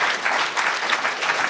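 An audience at a rail infrastructure seminar gives a round of applause for panellists, a short burst of steady, dense clapping from a room full of people.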